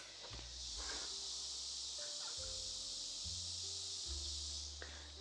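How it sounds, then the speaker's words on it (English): Loud, steady cicada buzzing fills the air without pause at night, a dense high drone with low rumbling underneath. "The cicadas are here. It is so loud out there."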